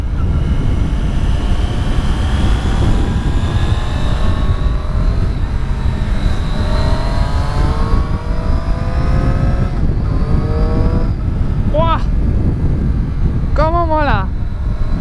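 A Triumph Street Triple S motorcycle rides along a road toward El Atazar, its engine note rising and falling through gear changes, loud and close beneath steady wind rush, with a rider talking over it.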